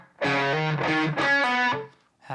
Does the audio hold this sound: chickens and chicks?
no